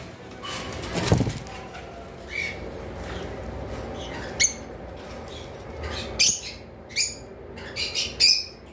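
Pineapple conures and cockatiels kept as breeding pairs give sharp, scattered squawks and chirps with a brief flutter, several separate bursts close by against quiet room noise.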